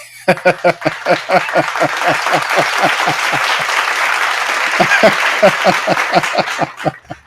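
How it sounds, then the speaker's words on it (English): A run of distinct sharp hand claps, close and fairly loud, swells into a brief burst of crowd applause with light laughter before the separate claps return and stop. "Let's give Willie a round of applause"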